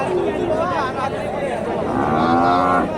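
Friesian bull cattle at a busy livestock market, with low lowing calls rising under continuous nearby talk and crowd chatter, a longer drawn-out moo swelling toward the end.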